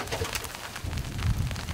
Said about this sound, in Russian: О, там птички.